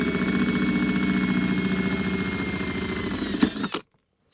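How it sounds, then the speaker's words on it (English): A power drill whirs steadily at close range for several seconds, drilling a hole in the console of a 2005 GMC truck, followed by a few brief clunks before it stops abruptly into silence. "So we'll drill a hole right back here."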